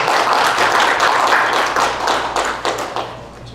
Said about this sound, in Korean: 귀한 말씀 주신 목사님께 다시 한번 박수.